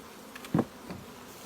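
Honey bees at a hive buzz faintly, with one brief closer buzz passing by against a quiet background and no voices.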